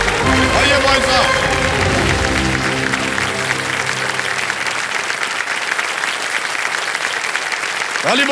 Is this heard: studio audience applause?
yes